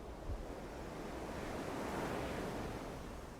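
Steady ocean surf washes in a continuous, even roar with a faint gust of wind near the start, no voices present.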